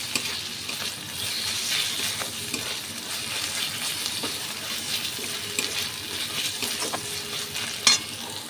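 Onions and tomatoes fry in a pan with a steady, close sizzle, broken by occasional scraping stir sounds and one sharper clink near the end; no one talks.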